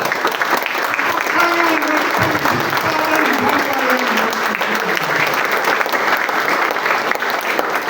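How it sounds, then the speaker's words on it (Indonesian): A standing church congregation at a theological college Sunday service applauds warmly, with continuous full clapping and a faint murmur of voices and a sustained tone running underneath. "Berdiri dan memberikan tepuk tangan dulu bagi Bapa yang baik itu"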